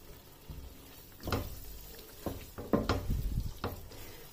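Tomato masala simmers in a pan for a seekh kabab biryani, with soft sizzling and a few scraping stirs breaking through a low cooking hiss, fairly close and moderately quiet.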